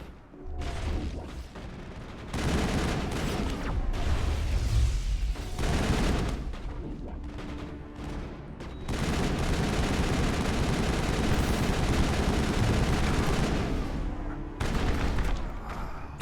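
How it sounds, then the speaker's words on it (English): A turret in Mass Effect fires in long, sustained bursts of rapid, loud gunfire, separated by brief pauses, with heavy rumbling battle noise throughout. "That turret could punch some nasty holes in the Normandy."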